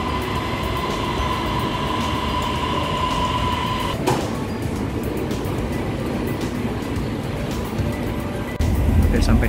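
A Bangkok MRT underground train rumbles through a station, a steady loud rolling roar with a high tone that cuts off partway, then a louder surge near the end as it arrives; a person talks over it.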